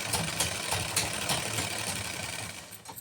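A sewing machine runs continuously and rapidly, stitching a rounded salwar hem with a dense, even mechanical whir close by, slowing slightly at the end.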